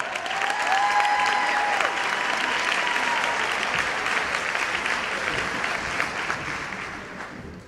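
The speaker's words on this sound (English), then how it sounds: "So please give Mayor Jim Kinney a round of applause" A convention audience in Philadelphia applauds to welcome Mayor Jim Kinney, a dense, sustained wash of clapping that holds steady before gradually thinning toward the end, with no talk over it.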